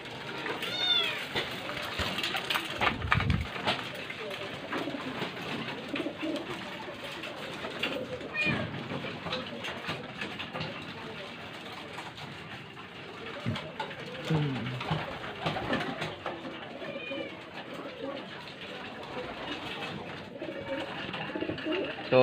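Racing pigeons coo repeatedly near and far while being fed in a loft, soft overlapping calls over a busy background, with talking in the clip.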